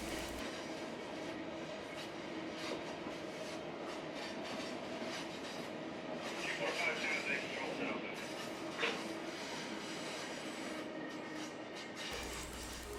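A train hauling retired TALGO coaches to be scrapped in Southern California rolls past, a steady rumble with wheel clatter and brief high squeals, heard from trackside at moderate distance.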